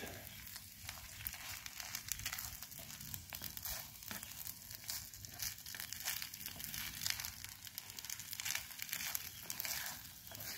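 Constant crackle and sizzle from an outdoor cooking fire as wood is added under a pan of rice and eggs, a steady close hiss with small snaps throughout.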